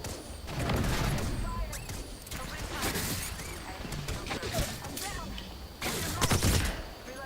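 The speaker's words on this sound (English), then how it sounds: "I'm taking fire." Rapid bursts of video game gunfire crackle throughout, with repeated volleys and sharp shots over continuous game ambience while someone talks over the action.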